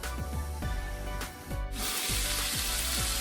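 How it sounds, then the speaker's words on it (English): Loud, steady sizzling of sausages frying in a pan, a dense crackling hiss with a brief dip before it surges back even stronger. "Sizzling."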